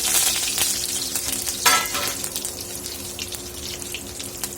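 Garlic and curry leaves fry in hot oil for a Solapur-style palak gargata, producing a loud close hiss with crackling and sputtering. A brief louder burst comes early, then the sizzle settles to a steadier level with no speech.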